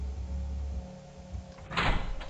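Someone tries a locked door in the horror game Angels of Death: a low hum, then a rattling clatter of the handle and door near the end, fairly quiet and without talk.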